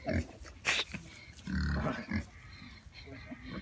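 Grunts from a pig at close range, several short low bursts in an irregular series, with background noise and faint voices nearby.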